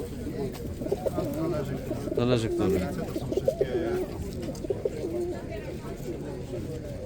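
Pigeons coo softly and repeatedly among caged birds at a pigeon market in Radom, mixed with crowd murmur. Someone speaks briefly in the foreground.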